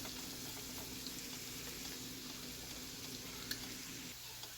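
Garlic frying with beef and thyme in a pan, a steady close sizzle with faint stirring clicks throughout.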